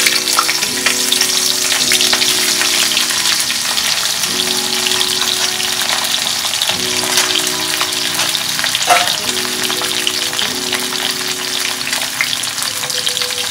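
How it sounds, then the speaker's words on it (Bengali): Cauliflower pieces frying in hot oil in a wok for a Bengali vegetarian dish, a loud, steady close-up sizzle with periodic stirring scrapes roughly every two seconds and no talk. "ফুলকপিটা তেলের মধ্যে ছেড়ে দেবে"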